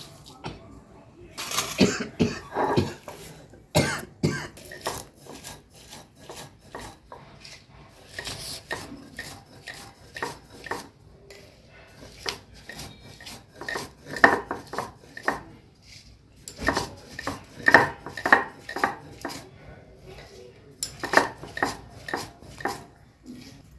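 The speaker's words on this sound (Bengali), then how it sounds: "এটা আমি কি শিলনোড়ায় গুঁড়ো করে নেব গরম গরমই আমি এটাকে পিষে নেবো" Amla, Indian gooseberry, crushed and ground on a shil-nora stone slab, giving repeated rough scraping and knocking strokes in uneven bursts, close by and moderately loud, with a voice speaking in places.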